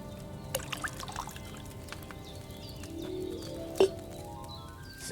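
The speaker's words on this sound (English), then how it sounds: "What did you pour in there?" Wine is poured from a pitcher into a cauldron in Kingdom Come Deliverance 2, a close, gentle trickle that rises in pitch as it fills, with a few faint clinks around it.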